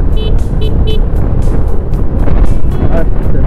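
Wind buffets the microphone while riding a Suzuki V-Strom 250SX motorcycle on the road toward Hetauda, with a steady loud rush throughout and faint voices underneath.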